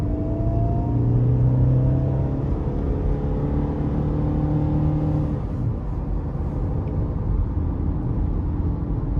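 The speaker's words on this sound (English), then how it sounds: "We'll give it a little throttle here." Engine of a 2012 GMC Terrain with the 2.4-liter four-cylinder pulling under throttle from inside the cabin, a steady rumble whose pitch climbs, then drops at a gear change, continuing as a droning cruise without talk.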